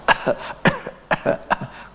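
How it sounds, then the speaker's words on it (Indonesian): A person coughs in four short, separate bursts at close range, with brief pauses between them and no talk. "Ada batuk-batuk sedikit."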